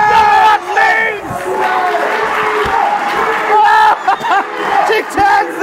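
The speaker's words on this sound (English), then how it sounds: "the crowd are off their feet" Wrestling crowd at a live tag-team match roars and cheers loudly throughout, with whoops and shouts rising and falling in dense, continuous waves.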